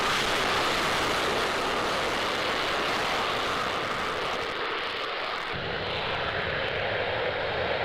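Loud, sustained drone of aircraft engines at a D-Day 50th anniversary event, a dense continuous roar that shifts in tone partway through as the aircraft passes.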